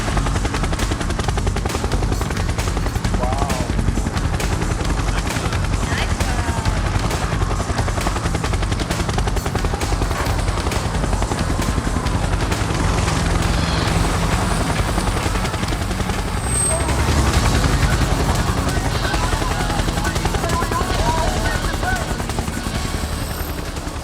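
Helicopters thunder overhead during a staged mock FBI raid on a house, a loud continuous rotor roar with sharp bursts of gunfire-like cracks mixed in throughout.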